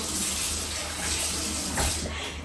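Steady running water pours from a tap as a knife is rinsed by hand at a kitchen sink, a continuous close splashing stream with no talk.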